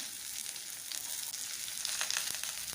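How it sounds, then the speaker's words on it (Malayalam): Chopped onions hit hot oil already holding ginger, garlic, mustard seeds and dried chillies, giving a steady close sizzle with brief crackling spikes and no voices. "ഇനി 2 സവാള ചെറുതായിട്ട് അരിഞ്ഞത് അതുകൂടി നമുക്ക് ഇതിലേക്ക് ചേർത്ത് കൊടുക്കാം."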